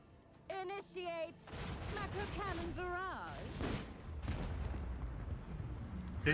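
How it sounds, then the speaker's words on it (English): Macro cannon barrage in the video game Rogue Trader, a rolling series of heavy booming shots and rumbling blasts, with a voice over the opening moments and the barrage continuing loud underneath. "Initiate macro cannon barrage."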